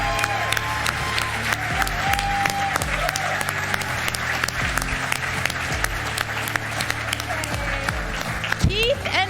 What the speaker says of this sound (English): we would like to invite back to the stage for a last round of applause our 2024 inductees